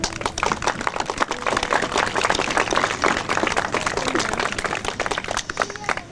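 An audience applauds World War II veterans at a Veterans Day memorial celebration, a dense, steady wash of many hands clapping at moderate distance with no pause.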